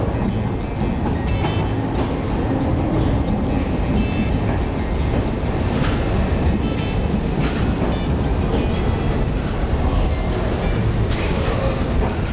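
Soviet-era M1 metro train running on the Budapest underground line, a loud, continuous rumble with rhythmic clicking of wheels over rail joints and occasional faint squeals, heard from inside the moving car.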